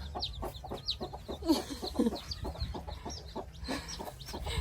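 A hen clucks repeatedly in short, soft bursts, with faint chirps of other birds nearby against a quiet background.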